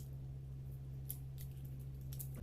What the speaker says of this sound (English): It's easy to tear, but since it comes with scissors, we got to try that out.